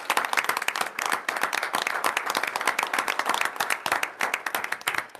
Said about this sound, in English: we could be more proud of 2 young men if we could give them one more round of applause.